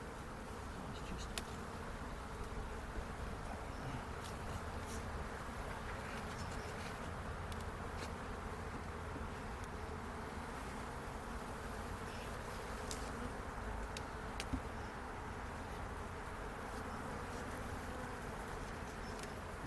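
Honeybees buzzing steadily at a beehive, a dense continuous hum of many insects that stays even and fairly faint throughout, with no speech.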